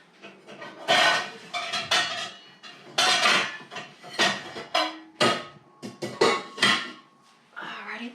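A tight-fitting lid goes onto a pot holding a red cabbage dye bath, with a run of loud, close metallic clanks, rattles and scrapes in uneven bursts.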